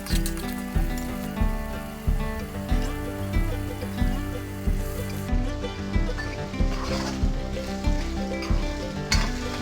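Spice masala sizzles steadily in a hot pan, a continuous crackling fry with a regular pulsing rhythm, likely from stirring, close and alone with no talk.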